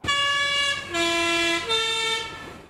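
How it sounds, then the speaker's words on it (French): Powerful Swiss postal bus horns sound the familiar three-note melody drawn from Rossini's William Tell overture, three loud sustained chord-like blasts, each starting sharply. "une petite mélodie presque aussi célèbre que son illustre ancêtre, jouée par les puissants klaxons des cars postaux"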